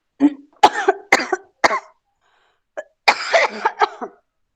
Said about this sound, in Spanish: Tengo una tos bien seca desde hace como 3 días y no se me quiere quitar.